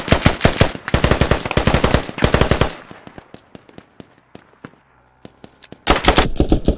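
Gunfire in the video game Squad: rapid automatic bursts crack loudly in close succession, then scattered quieter distant shots follow during a lull before another loud burst erupts.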